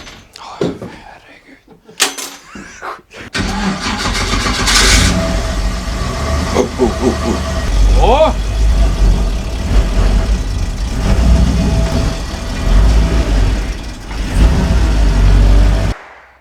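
An American school bus engine starts and revs loudly as the bus drives in, with clunks and a door slam early on and a short exclamation, the engine drone staying close and steady throughout.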